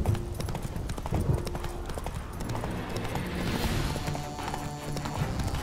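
Rhythmic clip-clop of horse hooves trotting steadily in the video game The Witcher 3, with a faint whinny and ambient game background, no talking.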